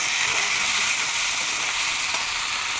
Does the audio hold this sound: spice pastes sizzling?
yes